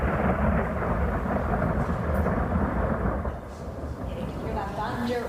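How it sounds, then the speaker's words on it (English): Thunder rumbles and crashes over heavy rain outside a studio in Kitchener on a summer afternoon, a dense, continuous roar of rainfall with deep rolling booms, loud and alone. "loud crashes of thunder, rain quite heavy at times"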